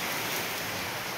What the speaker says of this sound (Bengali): আজকে সারাদিনই কতক্ষণ বৃষ্টি পড়তেছে, কতক্ষণ আবার থামতেছে।